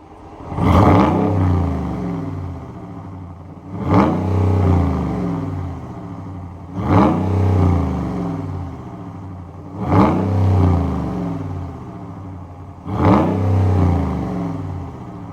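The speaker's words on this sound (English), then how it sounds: "let's take a listen to see how this Hemi sounds" A 2026 Ram 1500 Bighorn 4x4's Hemi V8 engine revs five times in a steady rhythm, each loud roar rising and then settling back to a deep idle.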